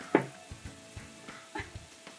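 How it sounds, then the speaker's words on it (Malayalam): Onions and beef stirred in a hot pan for a Kerala curry, with a soft sizzle and a few scraping spoon strokes at a slow, gentle rhythm, quiet and close. "അപ്പോൾ ഒന്ന് ചെറുതായിട്ട് ചൂടാവാനായിട്ട് അപ്പോൾ നമുക്ക് പതുക്കെ ഒന്ന് ഇത് ഇളക്കിയെടുക്കാം"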